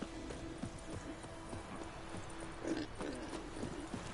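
Horse hooves in The Witcher 3 clip-clop in a steady, quiet rhythm at a walking pace, faint and somewhat distant under light background ambience.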